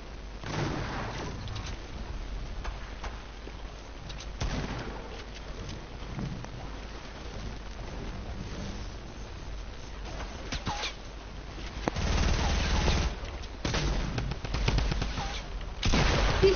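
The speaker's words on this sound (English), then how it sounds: "Keep on shooting again. Shoot again." Video game gunfire crackles as repeated shots and bursts, a dense stream of muffled reports with a heavier stretch near the end, no voices.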